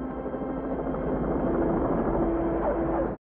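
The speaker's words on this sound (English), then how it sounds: "The other helicopter." A helicopter's steady, loud rotor drone in the 1989 film Lethal Weapon 2 throbs continuously, then cuts off abruptly at the end.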